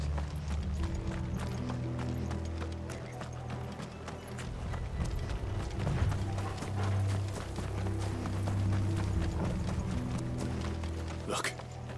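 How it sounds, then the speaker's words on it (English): Steady clip-clop of horse hooves from the video game Final Fantasy XVI, with a continuous low rumble and a voice speaking over it, the rhythm holding throughout. "Those horses."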